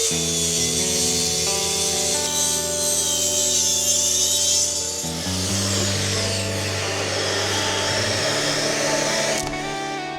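A plunge saw whines at a high, steady pitch while cutting through a wooden staircase, its tone shifting midway as it bites into the wood, with a sharp stop near the end.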